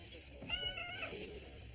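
A cat gives a short meow in a hospital setting, fairly faint, while a person talks nearby.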